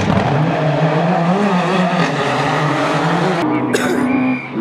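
A rally car with a standard 2.3 Ford engine races at the Rally of the Lakes, its engine revving loud and close with shifting pitch, ending in a brief tyre or gravel burst as it drops away.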